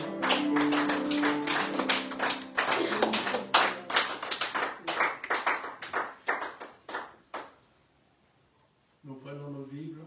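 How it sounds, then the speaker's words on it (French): Clapping in a church service, a congregation clapping together and then fading into scattered claps before a pause, with a voice speaking at the end. "Nous applaudissons le roi des rois."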